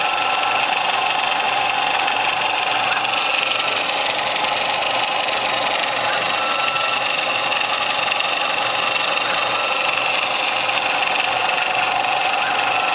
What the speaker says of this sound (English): engine turning a quarter-inch sheet of stainless after it was milled flat with a three-quarter-inch carbide four-flute end mill